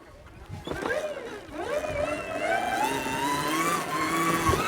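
Trials motorbike engine revving up during a wheelie attempt, rising in pitch and holding a strained mid-range drone, close by with a voice briefly present.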